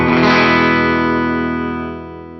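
A 2024 Heritage Custom Core H530 electric guitar, played through its hot bridge P90 pickup, rings out a single sustained distorted chord that slowly decays.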